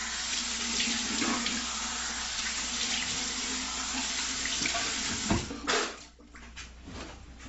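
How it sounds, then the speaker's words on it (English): A tap runs with cold water while a shaving razor is rinsed under it, a steady splashing rush that breaks into short spatters and gurgles near the end as the flow is interrupted. "Rinse it off cold water."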